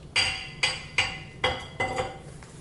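Ceramic pot of fitted cylinder, dome and lid pieces, wood-fired in an anagama kiln, tapped five times at an even pace, each a sharp close clink with a short ringing decay, no voices.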